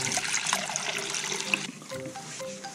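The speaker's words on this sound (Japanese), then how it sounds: "超音波洗浄機でございます水入れまして" Water running and splashing into an ultrasonic cleaner tank, a steady bright trickling pour that eases off partway through, leaving quieter drips and faint handling sounds.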